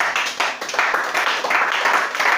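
A church congregation claps together in quick, steady rhythmic applause during a worship service, bright and fairly close with no voices standing out.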